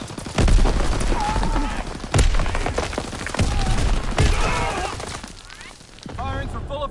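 Grenade blast and gunfire in a PS4 military shooter game: a few heavy, close booms spaced a couple of seconds apart, with shots crackling around them and radio-style voices speaking over the fighting.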